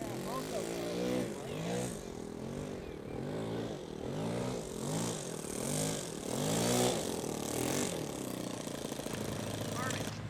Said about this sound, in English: this red and white plane is called the Pulse